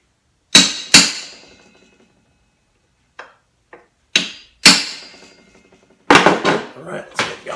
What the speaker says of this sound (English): I'm also going to take a center punch and give myself a nice starting point here.